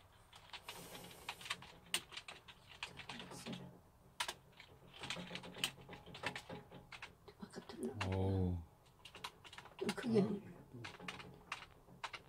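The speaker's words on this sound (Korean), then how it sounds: "안 보고 막 치네요. 타자를." Fast typing on a computer keyboard while editing, rapid clusters of close key clicks coming in bursts, with people talking over and between them.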